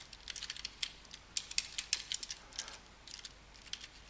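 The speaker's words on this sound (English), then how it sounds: "now I shall simply type out system.out.println" Keys clatter in quick, irregular bursts on a computer keyboard as code is typed, light close clicks with brief pauses between runs of keystrokes, fairly quiet, with no talking.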